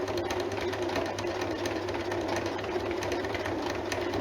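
A domestic sewing machine stitches jersey knit fabric at a sleeve and shoulder seam, running with a fast, even mechanical whirr and rapid needle rhythm, fairly quiet and continuous, with no talking.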